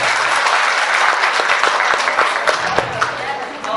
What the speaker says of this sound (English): please give a big applause for our dignified guests and our special guests.